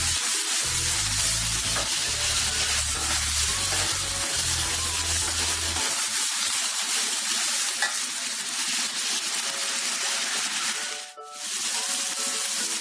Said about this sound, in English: need to fry it in the oil